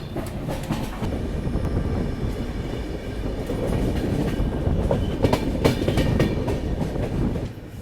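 The Barmer–Yesvantpur AC Express pulls into Samdari Junction station, a loud steady rumble of rolling coaches with clattering wheel beats and rail clicks, continuous and close, with no voices.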